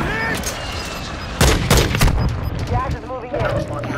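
Gunfire in Call of Duty: Modern Warfare 2, a loud close burst of several shots followed by scattered further reports and game effects, with a player's voice heard over parts of it.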